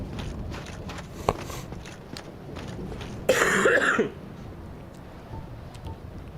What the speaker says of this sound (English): Sorry, not sorry for coughing.